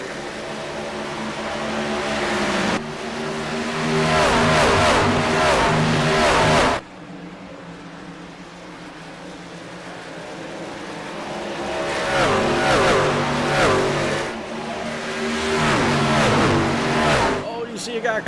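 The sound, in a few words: racing trucks driving past in a racing video game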